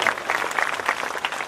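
Audience applause greets a shrine priest at a Meldi Maa mandvo religious gathering: a short burst of many hands clapping together in a brisk, fairly close patter, with no voices.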